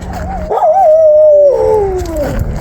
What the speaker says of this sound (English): And of course, there was a dog barking there.